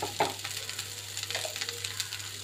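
Potatoes frying with spices in a pan, a soft continuous sizzle with light stirring scrapes and a low steady hum underneath.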